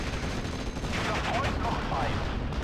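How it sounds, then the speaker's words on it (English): Artillery and machine gun fire in the World War II strategy game Steel Division: Normandy 44, a dense, continuous battle din of distant rattling bursts and booms with faint voices mixed in. "Kubel MG actually gets hit by an artillery shell directly"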